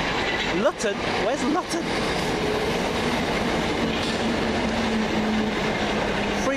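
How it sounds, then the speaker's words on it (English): A Govia Thameslink train climbs the hill at Farringdon, a steady rolling rumble with brief wheel clatter and a long tonal hum, loud and close throughout while a person speaks briefly over it. "Coming up the hill, the 1709 Govia Thameslink service from Luton to Sutton."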